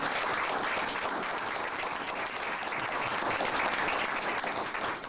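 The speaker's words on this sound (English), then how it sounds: "give our Golden Apple 2022 Golden Apple Award winner Ashley Van Sickle a big round of applause" An audience at a school board meeting gives the 2022 Golden Apple Award winner a big round of applause: dense, continuous clapping from a full room that holds steady for several seconds with no voices over it.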